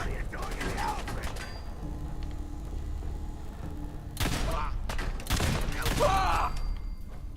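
Gunfire from a gun in the video game Fallout 4: loud bursts of shots around the middle and end, over a busy game soundscape with mechanical clicks and thuds.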